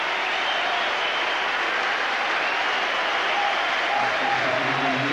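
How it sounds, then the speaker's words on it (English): Football crowd at a Dundee United versus Dundee Premier League match applauds a substitution, a continuous broad wash of distant stadium clapping and crowd noise that holds steady throughout. "Great applause."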